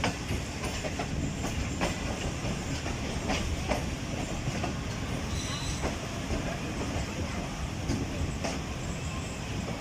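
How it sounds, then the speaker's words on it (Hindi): Rehman Baba Express passenger train pulling out of Landi junction station, heard from aboard: a steady rumble of wagons with repeated clickety-clack wheel beats over rail joints, continuous and fairly loud throughout. "ट्रेन लांडी जंक्शन रेलवे स्टेशन पर 5 मिनट स्टॉप करने के बाद रवाना हो चुकी है।"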